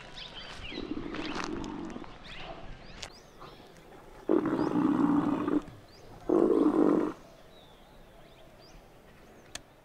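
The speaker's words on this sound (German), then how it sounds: "Na, wenn das nicht nach einem Tiger klingt." A big cat roars like a tiger in India, two loud, deep bursts of about two seconds each, preceded by a lower rumbling growl, with quiet outdoor ambience between.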